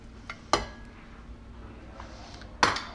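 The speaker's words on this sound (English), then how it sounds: "Now I'm adding the beans." Canned beans go into a soup pot: two sharp metallic clinks about two seconds apart, with a soft scrape and faint kitchen ambience between them.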